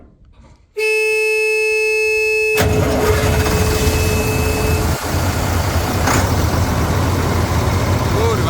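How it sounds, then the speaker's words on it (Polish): A loud diesel engine of a Bizon Rekord Z058 combine harvester roars up after a brief tonal beep, running steadily with a deep rumble and a broad mechanical hiss throughout. "posłuchają jak teraz pracuje motor, jak niesamowicie pracuje tak naprawdę"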